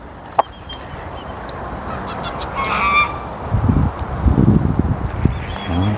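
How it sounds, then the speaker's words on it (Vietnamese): A flock of plump geese honks outdoors by the sea: repeated, fairly close calls in an irregular cluster over the second half, above a steady background of wind and ambient noise. "Ngỗng đàn đàn luôn"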